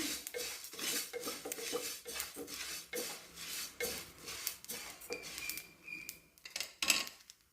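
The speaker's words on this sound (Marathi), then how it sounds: "2 चमचे जिरे, 2 चमचे बडीशेप, थोडेसे हलके भाजून घेऊया." Cumin and fennel seeds dry-roasting in a pan while a spoon scrapes and stirs them, giving repeated close metallic clinks and scraping strokes with no talking.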